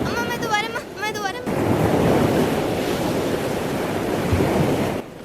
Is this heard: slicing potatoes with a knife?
no